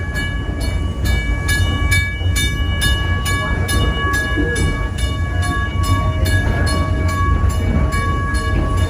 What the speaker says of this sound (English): enjoy the train ride through the village